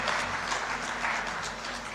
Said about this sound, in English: Please, another round of applause for His Excellency,